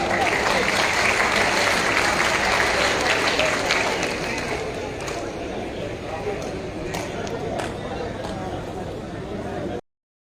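An audience claps loudly at a public gathering, dense continuous applause filling the space and tapering slightly toward the end, with crowd voices mixed underneath.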